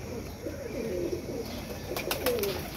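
Pigeons coo softly in a loft, several low rolling calls overlapping at moderate distance, with a few faint clicks and rustles near the end.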